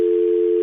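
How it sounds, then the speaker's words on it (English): A telephone ringback tone sounds while a call is being placed: one loud, steady electronic tone held unbroken for under a second, with no voices. "Jacqueline, hang on, it's ringing."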